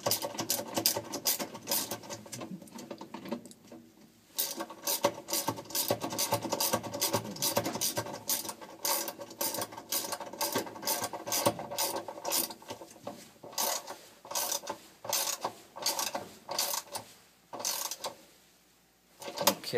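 Washing machine agitator being tightened back into place, with rapid ratcheting clicks in long bursts and brief pauses, close and fairly loud, no speech.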